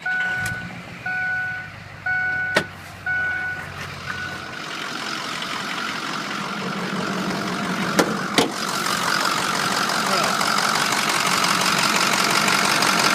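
A 2005 Ford F350 Lariat 4x4 diesel truck idles with a steady, loud rumbling clatter that builds and holds after a few seconds. A few electronic beeps and a couple of sharp clicks come early on.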